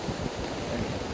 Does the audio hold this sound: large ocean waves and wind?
yes